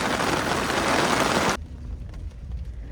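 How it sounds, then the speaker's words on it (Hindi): Heavy rain driven by strong wind in the Bijrani zone of Corbett Tiger Reserve makes a loud, dense hiss. It cuts off abruptly after about a second and a half, leaving only faint background noise. "लेकिन अनफॉर्चुनेटली बारिश भी उसी टाइम पे आ गई और काफ़ी तेज़ बारिश है"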